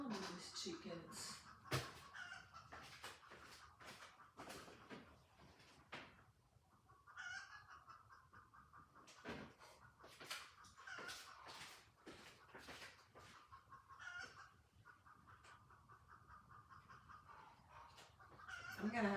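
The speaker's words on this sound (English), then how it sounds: "what is going on with these chickens?" Chickens clucking and squawking in an agitated, busy chorus, fairly close, with some crowing mixed in and no talk over them.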